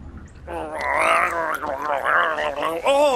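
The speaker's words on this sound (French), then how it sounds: "le bruit du Bragettor ressemble à un bruit de gargouillement de ventre" Hideous Zippleback dragon call, a wet gurgling sound like a rumbling stomach, loud and continuous with warbling pitch, close and alone for about three seconds.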